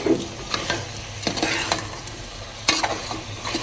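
Chili powder being stirred into goat head meat in a hot pan, a steady sizzle with repeated scraping strokes of the spoon, close and moderately loud.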